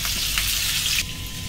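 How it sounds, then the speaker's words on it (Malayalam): Two chopped onions frying in hot oil for a Kerala-style chicken curry give a steady, loud, close hiss of sizzling that drops slightly near the end, with no voices. "ഞാൻ രണ്ട് സവാള അരിഞ്ഞത് ചേർത്ത് കൊടുക്കുന്നുണ്ട് ഇത് നമുക്ക് നന്നായിട്ടൊന്ന് വറുത്തെടുക്കണം"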